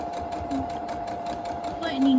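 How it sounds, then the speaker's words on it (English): A sewing machine stitches quilting fabric in a fast, even rattle of needle strokes, steady and close, with a voice talking over it. "put the needle in and sew."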